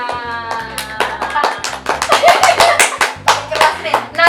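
A small group claps together during a truth-or-dare game among Indonesian students in Sakarya, a steady burst of close hand claps lasting several seconds with people talking over it.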